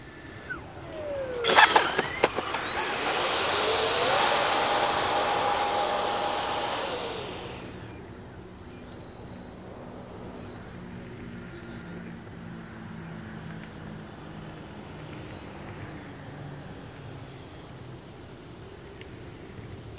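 A Freewing F-14 Tomcat twin 64mm electric ducted-fan RC jet coming in to land, with a loud rising whine that peaks as it passes close, then fades to a low distant hum with outdoor background noise.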